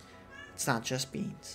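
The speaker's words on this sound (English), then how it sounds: "You might be able to hear my cat in the background." A pet cat gives a few short meows amid a quiet indoor room, mixed in with a person speaking briefly nearby.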